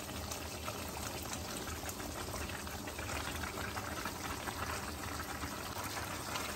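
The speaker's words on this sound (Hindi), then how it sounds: "And now I am going to add in the pasta." Creamy tomato sauce simmers on a lowered flame as pasta goes in, giving a steady, close bubbling and sizzling that continues without pause and without talking.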